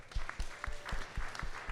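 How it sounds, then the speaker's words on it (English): A brief round of clapping for Max from a room of attendees at a business mastermind event, loose individual claps with a few sharp, separate hits rather than a full ovation. "We'll give a little clap for Max real quick."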